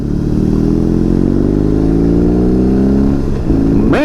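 A BMW R 18 B bagger motorcycle pulls hard under acceleration, its heavy engine droning loud and close with rising pitch, a brief dip as a gear shifts, then climbing again.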